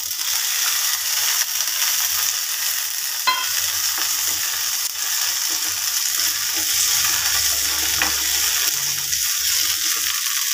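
Chopped green chillies fry in a pan for peanut chutney, a continuous loud sizzle with occasional scraping stirs and clinks, no voices.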